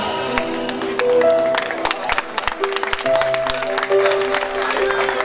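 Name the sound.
wedding guests applauding the young couple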